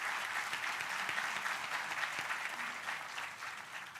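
An audience claps steadily for a college principal at a catering college induction event, a dense, even round of applause with no voices over it.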